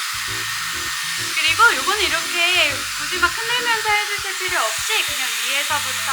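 A Dyson Airwrap 2 multi-styler blows air on its strongest setting, a steady high-pitched whoosh running throughout while someone talks over it in Korean.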